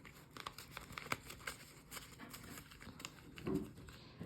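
Banknotes are tucked into a paper envelope at a table, giving soft crinkles, rustles and a few sharp paper snaps at close range with no talk.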